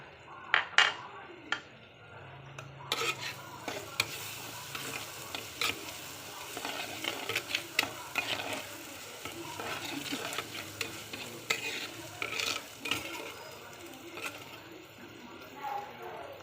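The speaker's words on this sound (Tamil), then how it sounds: "நல்லா எண்ணெயிலே வணக்கி விடுவோம்." A spoon stirs the base for a coconut-free katla fish head curry frying in oil in a pan, with repeated scraping strokes over a soft, continuous sizzle and irregular clinks against the pan.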